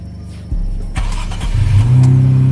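An Infiniti Q50 car fitted with new sequential lights has its engine started and revved up close, a sharp initial catch followed by a deep, climbing roar that grows louder and holds.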